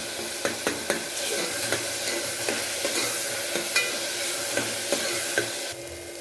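Chopped onion and tomato with salt sautéed and mashed in a pan for mutton bone kulambu, with steady sizzling and a regular series of sharp spatula taps and scrapes against the pan.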